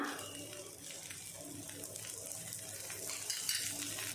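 Rava dosa batter spread on a hot griddle with oil drizzled around the edges gives a faint, steady crackling sizzle that holds evenly, with soft background noise and no talking.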